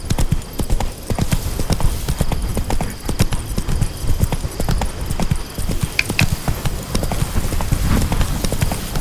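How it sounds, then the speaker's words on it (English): A horse gallops along in The Witcher 3, its hooves pounding a fast, continuous clip-clop that stays loud and close throughout with no talk over it. "Run, Roach."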